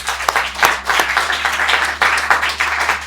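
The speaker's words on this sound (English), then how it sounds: "You should give yourselves a round of applause." Audience applause at a reparations conference launch in the House of Lords, a dense burst of many hands clapping continuously throughout, close and fairly loud.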